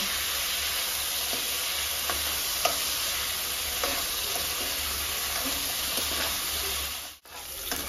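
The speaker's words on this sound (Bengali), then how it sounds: "সজনা ডাঁটা, কাঁচকলা, আলু দিয়ে দিচ্ছি, পরিমাণে নুন। এবারে এটা আমি 2 মিনিট ভাজবো।" Drumsticks, raw banana and potato frying in a pan with salt for shukto make a constant dense sizzle, close and even, with occasional soft spatula taps and a brief dip near the end.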